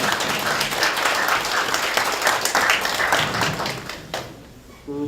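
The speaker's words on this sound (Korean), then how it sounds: "뜨거운 박수로 맞아주시죠" An audience at a 2018 Korean Buddhist studies society winter workshop greets a speaker with warm, dense applause, a loud, steady wash of many hands that fades out near the end.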